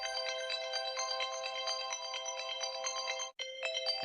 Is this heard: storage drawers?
no